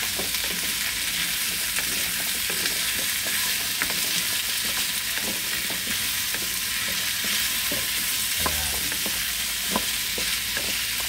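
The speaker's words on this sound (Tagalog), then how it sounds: "Ilalagay ko na ngayon ang kalabasa. Igigisa ko na." Squash pieces sauté in a pan, a loud, dense, unbroken sizzle close up with faint stirring scrapes running through it for the whole stretch.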